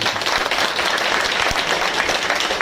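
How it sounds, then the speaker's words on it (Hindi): A crowd of villagers at a Jyoti Kalash Rath Yatra gathering applauds loudly, a dense continuous clatter of many hands sustained throughout. "जोरदार ताली बजाएंगे।"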